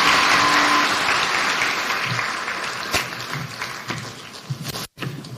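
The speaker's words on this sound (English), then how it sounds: "One more round of applause for His Excellency," An audience applauds the President at Kenya Innovation Week, steady crowd clapping that slowly thins and fades toward the end, with a brief dropout near the close.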